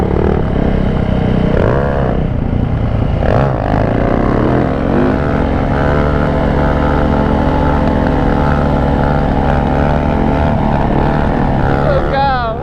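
A dirt bike engine revs hard and continuously during a wheelie attempt, loud and close, rising and falling in pitch with a sharp throttle burst near the end; voices are faintly mixed in.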